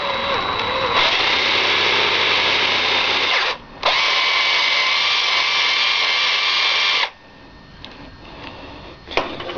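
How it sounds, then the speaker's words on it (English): A power drill bores a hole through a Sonicare toothbrush being made into a flashlight, whining loud and close in a long run, a brief pause, then a second run, followed by quieter handling clicks. "drill this hole out"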